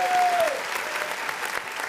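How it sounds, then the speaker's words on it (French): A crowd breaks into strong, sustained applause, a dense burst of clapping that fills the space, briefly overlapping a short tone at the start. "qu'on peut applaudir aussi très fort"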